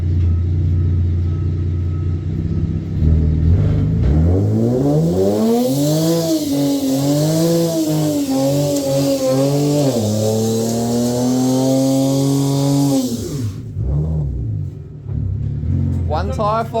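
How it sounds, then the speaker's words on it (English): A car revs hard for a one-wheel-peel tyre burnout, the engine climbing and wavering at high revs for several seconds before cutting back, with a loud rumble around it and people talking and shouting nearby. "One tyre fire, mate. One tire. One wheel peel, mate."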